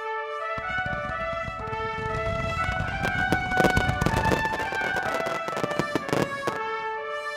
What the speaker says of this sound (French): Le soir même, un feu d'artifice éblouissant célébra le mariage des deux amoureux.